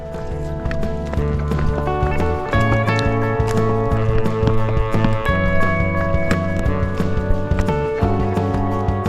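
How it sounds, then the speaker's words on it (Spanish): A loose horse walks along a trail near Topes de Collantes, its hooves clip-clopping in an even, unhurried rhythm, close and distinct over a steady background hum. "Es raro encontrarse un caballo solo, suelto."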